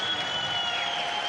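Spectators at a Greco-Roman wrestling bout at the 2013 Combat Games cheer and applaud a Russian wrestler's move, a steady wash of clapping and crowd noise filling the arena without a break.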